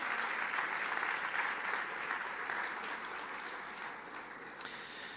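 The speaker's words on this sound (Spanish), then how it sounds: "Fuerte ese aplauso de alabanza al Señor" A church congregation gives sustained applause of praise, dense steady clapping from many hands that fades slightly toward the end.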